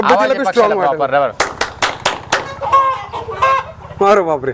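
Chickens on a poultry farm cluck and squawk excitedly up close, with several sharp clacking knocks in between and a voice heard briefly.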